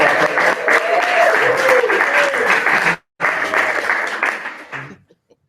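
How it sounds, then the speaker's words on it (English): An audience claps steadily and loudly, breaks off for a moment, resumes, and fades out at the end. "Big round of applause."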